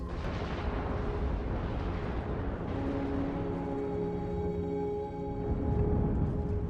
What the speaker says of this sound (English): Theia plows into the Earth.